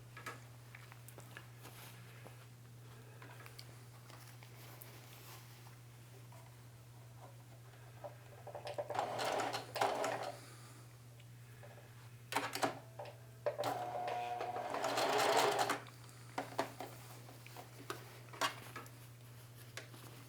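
A sewing machine stitches and back tacks a pocket onto jeans, running in two loud bursts of rapid mechanical stitching separated by quieter ticking, with a steady low hum throughout.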